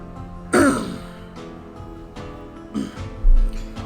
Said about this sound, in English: Ironically enough, it is me coughing